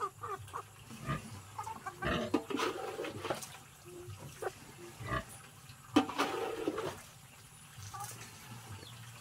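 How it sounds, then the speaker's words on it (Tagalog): Pigs grunt and squeal at feeding time on a farm, with irregular bursts of snorting and splashing, fairly faint and without talk. "magpapakain naman ng baboy."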